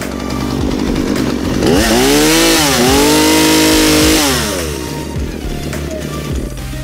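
A Husqvarna 236 two-stroke chainsaw engine runs loud and close without cutting, holding a steady buzzing idle, then revving up hard for a couple of seconds with a rising whine before dropping back to idle.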